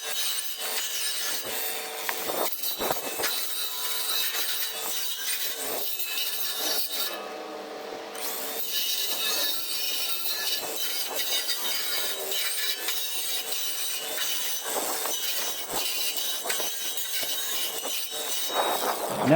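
Flux-core wire feed welding on expanded metal mesh on a trailer tailgate gives a steady, harsh crackling buzz that runs almost continuously, with a short pause partway through, close and loud.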